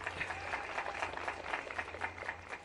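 Audience at a government handover of Quipus computers in Chuquisaca, Bolivia, applauds in a steady, moderately distant patter of many hands that stays even and unbroken, without speech on top.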